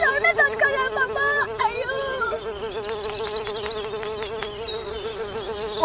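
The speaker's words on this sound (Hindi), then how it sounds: "इतने सारे मक्खी आ गए खाने भी नहीं देते।" Houseflies buzz in a steady, close hum around food at a family meal, with overlapping voices and children chattering throughout.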